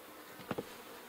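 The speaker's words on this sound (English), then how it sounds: "This hive is jam-packed full of bees." Honeybees from a packed hive buzz in a steady low hum, with two brief louder buzzy bursts as bees pass near the microphone.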